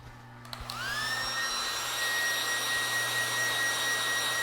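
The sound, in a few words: hair dryer drying a pheasant tail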